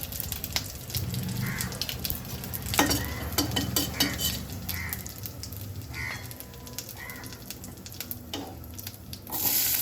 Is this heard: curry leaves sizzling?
yes